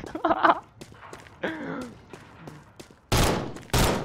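Gunfire in a hunting video game: two loud bursts of shots land near the end, after quieter clicks and muffled game sounds mixed with players' voices.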